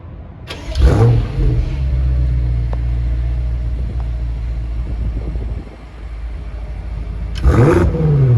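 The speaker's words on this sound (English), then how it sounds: "we'll get a quick startup clip and some exhaust revs" A 2022 BMW X5M Competition engine fires up with a sharp bark and settles into a deep, rumbling idle, then blips again in a loud exhaust rev near the end, heard up close with no talking.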